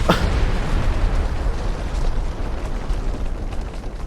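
TNT blows apart a castle in Minecraft: a sharp explosive blast at the start gives way to a loud, continuous crackling rumble of chained detonations and collapsing blocks.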